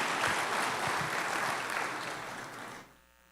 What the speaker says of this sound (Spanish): Dale aplauso al Señor.